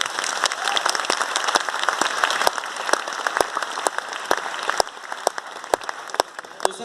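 Applause with sharp individual claps in a loose, uneven rhythm, continuing for about seven seconds, follows a request for teachers to show their agreement with loud clapping.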